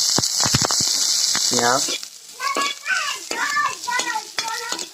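Chopped onion and garlic crackle and hiss in hot oil in a pan for an Assamese chicken curry, with a few stirring clinks, before a voice talks over the softer frying.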